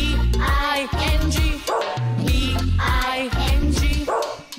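Dog barks ring out in a children's song about a farmer's dog, repeated rhythmic woofs in close, loud bursts that keep time with the tune.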